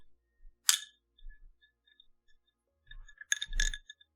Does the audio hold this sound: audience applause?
no